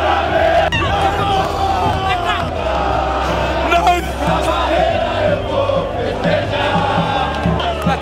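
Vasco supporters fill the stadium with dense, loud crowd noise, chanting and shouting continuously in a roaring wall of voices.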